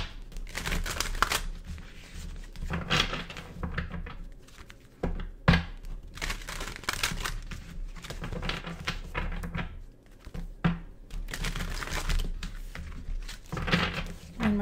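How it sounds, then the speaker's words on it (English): Tarot cards being shuffled by hand, irregular bursts of riffling, tapping and soft slaps close up, with brief pauses between shuffles and no talking. "One more shuffle."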